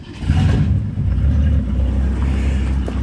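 A 1966 Ford Mustang coupe with a C-code V8 and a single exhaust outlet on the right and a transverse muffler runs with a deep, steady rumble, loud and close, with a slight rise in revs early on.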